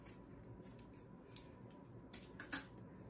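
Scissors snipping excess fabric off a dish towel: a few quiet, crisp cuts near the end over a faint room hiss.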